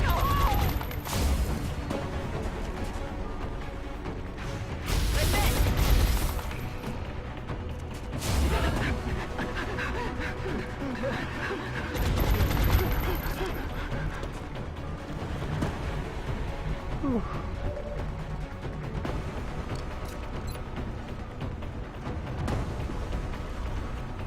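Gunfire and impacts from a turn-based XCOM: Long War firefight, bursts of shots and crashing hits scattered across a busy game soundscape, with a voice talking over it.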